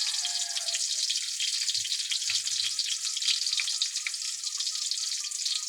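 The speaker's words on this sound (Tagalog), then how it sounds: "Sibuyas, ganito lang ako mag-gisa ng sardinas." Onions sauté with canned sardines in a hot pan, giving a continuous bright crackling sizzle that stays close and steady, with a few faint low knocks partway through.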